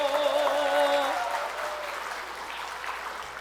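A church congregation applauds at a Sunday evening service. The claps start fairly loud over the tail of a sustained sung tone, then thin and fade over a few seconds.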